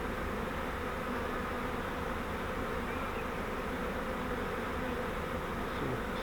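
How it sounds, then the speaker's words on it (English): Honey bees from a caught swarm crawl over hive frames with a dense, continuous buzz that stays steady and fairly soft throughout, with no voices. "So I think what I'd like to do is get the bees off of these two frames."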